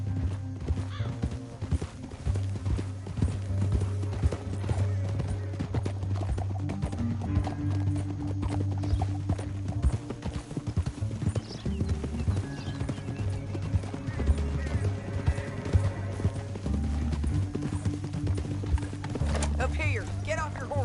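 Horse hooves clip-clop along a canyon trail in Red Dead Redemption 2, a steady rhythmic patter under a low musical drone with intermittent character dialogue and a whinny-like tone.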